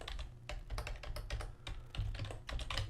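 Rapid, uneven keystrokes from a computer keyboard while code is typed, continuous clicking and tapping close by with no talking.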